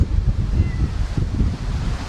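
Strong wind blows steadily outdoors on a small market-garden farm during seed sowing, a loud, continuous low rumble of gusts buffeting the microphone with no voices.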